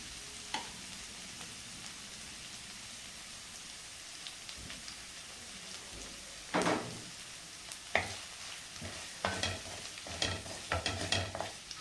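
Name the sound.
frying eggs with masala in a pan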